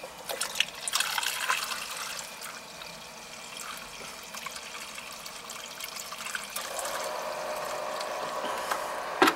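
Water pumping through the pipes of a hydro air heating system, heard as a faint continuous gurgling trickle that runs steadily throughout with no talking.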